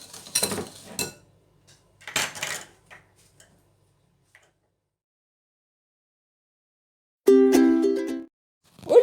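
Egg yolks and sugar being mixed in a bowl: a few clattering, scraping bursts early on, then a short steady whirring hum near the end, with quiet pauses between.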